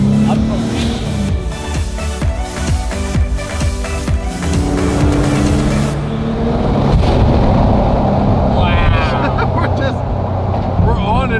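Toyota HiAce van with an R35 GT-R engine driving through Tokyo streets at night, a loud engine revving and roaring under excited voices, then a steady drone with wind and traffic noise.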